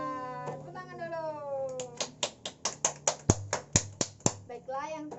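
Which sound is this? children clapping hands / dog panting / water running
children clapping hands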